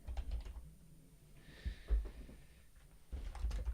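Fingers tap out a Facebook post on a computer keyboard, quiet clustered keystrokes at the start and end with a soft pause in between.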